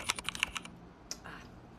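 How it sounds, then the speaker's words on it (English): A quick burst of clicky typing on a computer keyboard, around half a dozen rapid keystrokes at close range, then a lone click and a soft rustle before things go quiet. "I don't know what I'm typing"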